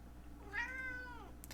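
A cat meows once indoors, a single drawn-out, slightly falling cry that is clear but fairly quiet against a low room hum.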